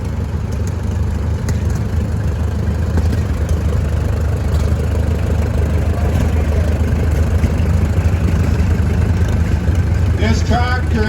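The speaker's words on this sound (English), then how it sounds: "This tractor is a 90 cockshut. It was the biggest one." A Cockshutt 90 tractor engine runs at a rural tractor gathering, making a loud, steady low rumble that continues throughout with faint background activity.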